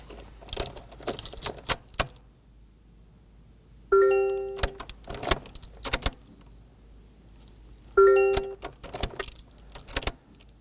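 A 2020s Toyota Corolla's ignition is switched on repeatedly after a fuel pump module replacement. Sharp clicks and relay ticks are punctuated by two dashboard chime tones a few seconds apart, inside a quiet cabin.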